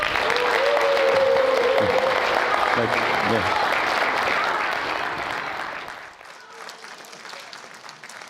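Audience at a book launch event claps loudly as a speaker is welcomed onto the stage, the applause fading after several seconds into quieter room noise; a brief voice is heard at the start.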